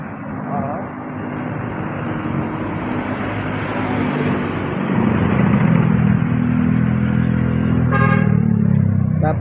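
Heavy road traffic of cars and motorcycles in Meycauayan, Bulacan, a continuous close roar that builds midway, with horn toots and a voice speaking over it.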